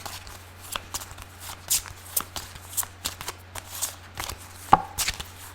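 Tarot cards being shuffled by hand, a run of quick papery riffles and soft slaps repeating unevenly, close and fairly quiet against a low steady hum.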